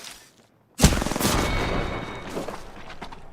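In Apex Legends, a weapon fires continuously while Lifeline is played: after a short silence, a loud sustained burst of rapid shots kicks in and then gradually tapers off.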